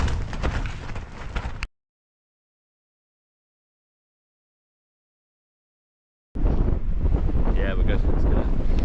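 Strong wind batters a Cloud Peak 2 tent during a storm, a loud rushing roar with flapping fabric, cut by a stretch of total silence before the gusts resume, while a person speaks.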